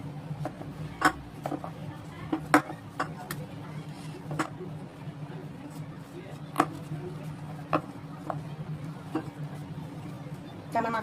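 Rice-flour dough kneaded by hand, giving irregular soft slaps and sharp clicks up close over a steady low hum, with faint voices murmuring in the background.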